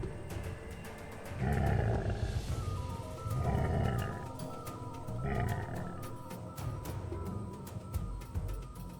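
A lion roars in deep, heavy bursts, three or four swelling calls with short pauses between them. The roars are close and loud, with no talking.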